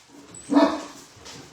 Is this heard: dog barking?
yes